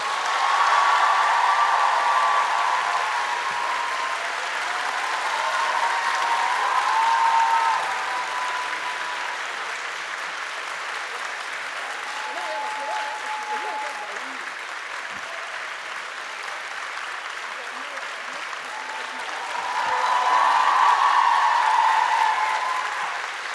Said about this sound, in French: je vais vous demander un tonnerre d'applaudissements pour C.S. Quill et Laura S. Wild